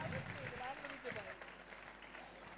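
An audience claps for a drama crew at a stage event in Pune, with a dense, moderately faint patter of applause running throughout as voices mix in.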